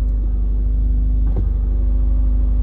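A Subaru WRX with a solid transmission mount runs with a loud, steady, close engine rumble, broken by one short surge partway through. No one speaks.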